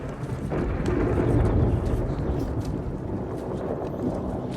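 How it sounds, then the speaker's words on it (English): Thunder sound effect from a Stargate SG-1 episode, marking Thor's arrival: a loud, sustained low rumble that swells in the first two seconds and then rolls on steadily without talk. "That's right. Thor's thunder."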